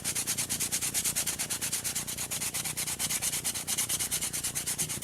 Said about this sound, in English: don't think you can just hit it one time with the sandpaper and call it a day